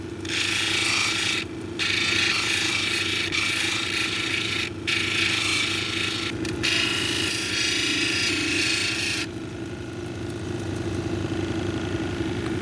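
A 1200 grit cabochon grinding wheel whirs steadily while dumortierite is pressed against it, a loud continuous abrasive hiss with brief dips where contact lifts, ending in a lighter spin.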